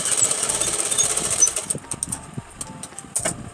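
Domestic sewing machine stitching a Rajputi kanchali blouse, sewing a slanted seam along bias-cut fabric: a steady rapid mechanical whir with fast needle rattle that runs for about two seconds, then breaks into short bursts.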